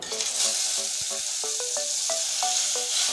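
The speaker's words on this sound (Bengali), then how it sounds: "এই পটলটা ভেজে নেব একে একে ছেড়ে দিচ্ছি তেলে" Pieces of pointed gourd (potol) sizzle in hot oil with a loud, steady crackle, while light clinks of a utensil sound against the pan.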